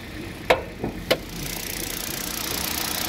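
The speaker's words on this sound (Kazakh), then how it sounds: "мотор жагында маяткан жерлери жок, иштеши аябай тегиз" A used Kia Rio's engine idles in a steady, even hum with no knocking, heard up close under the open hood, broken early by a few brief clicks.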